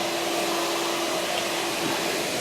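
The vacuum motor of an Ashbys heated Spot Master spot and stain carpet and upholstery cleaner runs with a loud, steady, close roar and a constant whine, without pause.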